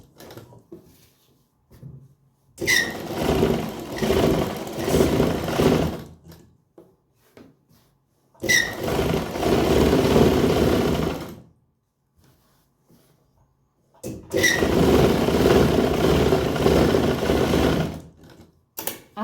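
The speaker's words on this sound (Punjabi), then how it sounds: "ਇਹਦੇ ਉੱਪਰ ਉੱਪਰ ਆਪਾਂ ਜਿਹੜੀ ਸਲਾਈ ਲਾ ਦਾਂਗੇ ਆ ਦੇਖੋ" Sewing machine stitching a salwar in a boutique, three long continuous runs of steady whirring stitching, each several seconds, separated by short quiet pauses, close and clear with no talk.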